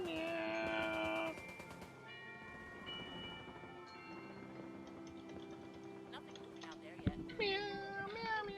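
A person imitates a cat with a run of repeated high meowing calls, several in quick succession over steady background music, close and fairly loud.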